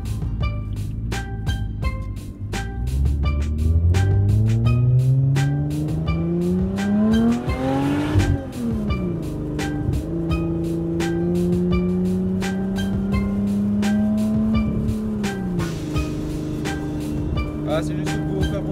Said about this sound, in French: c'est juste pour faire profiter du bruit de la voiture, de la sonorité, de la puissance qu'elle dégage